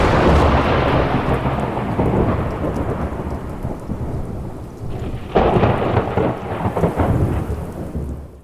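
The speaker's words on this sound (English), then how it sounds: "Rain pours down as lightning fills the sky and winds pound the landscape" Heavy thunderstorm with pouring rain and wind, a continuous loud rumble of thunder and dense rainfall that briefly swells midway before fading, with no voices.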